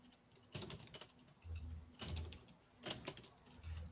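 Computer mouse clicks during a live stock-trading session, several quiet clicks and taps arriving in small clusters about every second, close to the mic with no talking.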